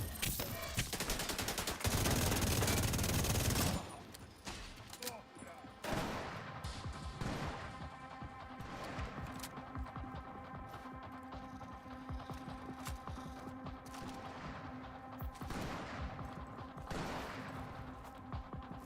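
Gunfire in a video game: a dense burst of rapid shots at the start, then scattered single shots and bangs over a steady game soundscape.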